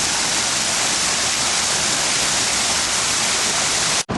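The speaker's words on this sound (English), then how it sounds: "the man-made waterfall on the man-made volcano" A man-made waterfall cascading down a man-made volcano at a casino in Macau, a loud, dense, steady rush of falling water filling the whole clip before cutting off abruptly at the very end.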